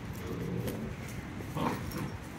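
A small dog whimpers and yips softly a few times against a low, steady background noise.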